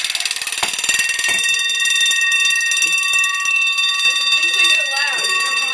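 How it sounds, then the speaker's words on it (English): An old fire alarm bell rings continuously and loudly up close, a harsh metallic clangor that starts with a few rapid strikes, while people talk briefly under it. "Looks like a fire alarm or something."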